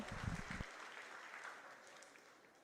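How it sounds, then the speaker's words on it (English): Applause from a fair crowd for 4-H showmanship kids, a steady patter of clapping at moderate distance that slowly fades, with a brief thump of handling noise at the start. "So give all those kids a big round of applause."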